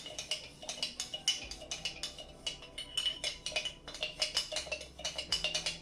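A metal spoon scrapes and clinks against the inside of a glass mason jar while fenugreek hair oil is stirred, a steady run of quick, close taps and rattles with no voices.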